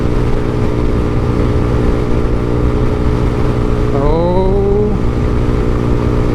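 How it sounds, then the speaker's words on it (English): A 125 cc AJS R7 sports motorcycle holds full throttle, its engine droning loud and steady over heavy wind noise, with a brief rising tonal shift partway through. "I've still got full throttle pinned"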